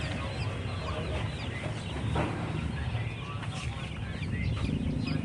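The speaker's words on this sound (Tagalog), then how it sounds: "Manok yan." Chickens clucking nearby in a farm setting, with intermittent clucks over a constant, noisy background.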